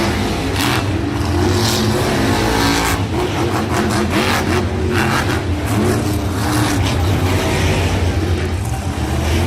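Monster trucks rev their engines hard during a Monster Jam racing round in Salinas, loud revving bursts rising and falling in repeated surges over a constant crowd-and-engine roar.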